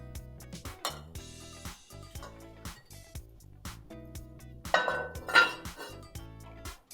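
A lid goes onto a braising pot of red-wine short ribs with baby carrots: a few metallic clinks and clatters of pot and lid over steady background music, no talking.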